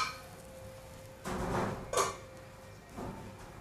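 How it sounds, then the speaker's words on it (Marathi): A spoon scrapes and clinks faintly against a pot while semolina lapsi kheer is stirred over high heat, a few soft strokes with a low background hum. "आता फास्ट गॅस करून शिजवून मध्ये मध्ये असं व्यवस्थित असं आपण हे ढवळून घ्यायचं"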